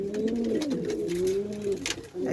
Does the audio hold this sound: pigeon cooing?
yes